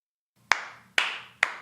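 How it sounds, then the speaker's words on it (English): Three sharp, close hand claps, evenly spaced about half a second apart, each ringing briefly in a quiet room with no talking. "Oh, nice clap."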